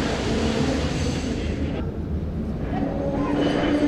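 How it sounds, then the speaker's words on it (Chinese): A passenger train pulls into a Chinese railway station, a loud steady rumble of wheels and engine filling the platform, with a tone rising near the end and crowd talk faintly underneath. "火车来了"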